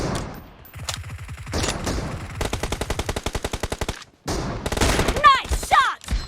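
Automatic gunfire in the mobile shooter BGMI during a team deathmatch rattles out in rapid bursts of shots, loud and close, with short gaps and a final flurry of ricochet-like whines.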